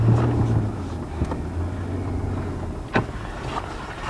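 A 4x4 truck crawls across a rough off-road track during a stuck-vehicle recovery, its engine a steady low rumble with wind buffeting the microphone and a few knocks and bumps over the ground.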